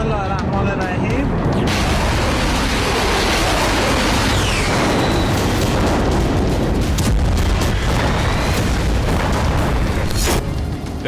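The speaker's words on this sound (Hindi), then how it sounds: "ईरान की धरती पर हुआ ये वो धमाका है" A huge explosion near Tehran, Iran, in news footage roars as a loud, sustained rumbling blast that fills the whole stretch, with a heavy low boom and crackling debris, and a voice speaking over it.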